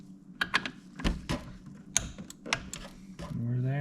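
A torque wrench tightens a front fork bolt on a 1988–2000 Honda GL1500 Goldwing. A series of sharp ratcheting clicks comes in uneven bursts, close by, with a low mechanical hum rising at the end.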